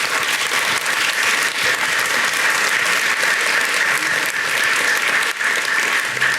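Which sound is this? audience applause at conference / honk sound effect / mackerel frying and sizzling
audience applause at conference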